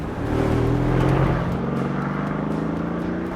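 A Mercedes-AMG S63 with a twin-turbo V8 revs hard, its exhaust giving a loud, deep, close roar that climbs and then settles into a steady throbbing drone, with no talking.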